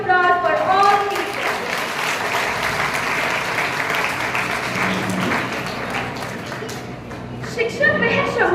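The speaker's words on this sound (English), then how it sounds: "So please give a huge round of applause for all teachers." An assembled audience at a Teachers' Day celebration applauds for the teachers, and the dense, sustained clapping runs for several seconds. Speech can be heard briefly before and after it.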